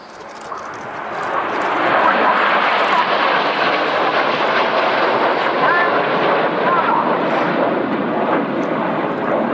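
Red Arrows display jets fly inverted at the RIAT airshow in July 2015, their engines a loud, continuous roar that swells over the first two seconds and then holds steady.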